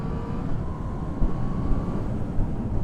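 A Yamaha XSR900 motorcycle with an 847cc engine cruising on a highway, a loud, steady engine drone under heavy wind rush, close and continuous with a faint whining tone.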